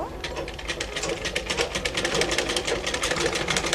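A sewing machine runs steadily, double-stitching elastic onto a cloth face mask, its rapid needle rattle close and continuous.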